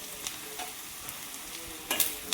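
Onions and curry leaves frying in oil for a Kerala jackfruit and beef dish, a soft steady sizzle with light stirring taps and a sharper crackle near the end.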